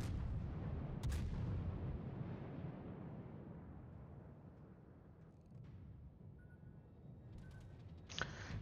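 Naval gunfire aimed at the battleship Bayern in a warship game, a loud deep boom opening into a long rolling rumble that slowly fades, followed by fainter distant shots and a sharp crack near the end.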